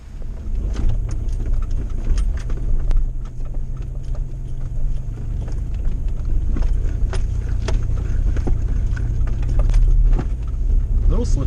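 A vehicle on Nitto Ridge Grappler tires, in four-high with tires at about 35 psi, crunches through fresh powder snow; a steady low rumble runs throughout with scattered crackly clicks from the tires and snow.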